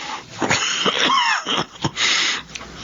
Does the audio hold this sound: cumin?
no